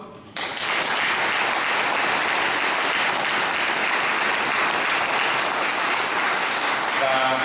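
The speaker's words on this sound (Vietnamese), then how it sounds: "một lần nữa chúng ta cùng đốt lên một tràng pháo tay cùng chúc tân xuân mậu" A church congregation claps at a New Year (Lunar New Year) mass: after a brief quiet moment, full, loud applause erupts and stays even and sustained, a thick roar of many hands filling the space until the end.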